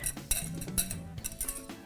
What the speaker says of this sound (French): On va mélanger les ingrédients humides avec les ingrédients